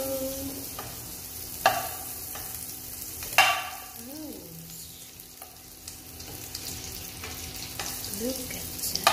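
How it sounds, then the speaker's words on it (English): Shrimp fry in melted butter in a pan with a steady, close sizzle, punctuated by occasional utensil clinks and stirring, while a person's voice breaks in briefly now and then. "I'm cooking butter with shrimps."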